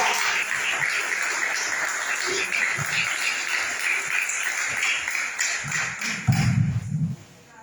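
A church congregation claps in thanks during worship, sustained rhythmic applause with voices and a few low thumps, ending in a louder burst before it quickly drops away.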